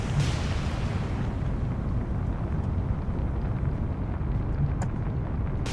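The destroyer Fubuki keeps up gunfire in a naval battle in the game War on the Sea: a dense, continuous low rumble of booming shots and explosions, loud and unbroken, with a few sharper cracks near the end.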